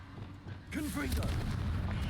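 A Confringo fire spell explodes in Hogwarts Legacy, a booming blast that erupts midway and rumbles on with crackling, while a voice speaks under it.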